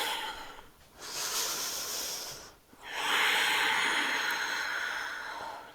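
Slow, steady breathing during a strong yoga flow: two long, close, airy breath cycles separated by short pauses, soft and hissing, with no talking.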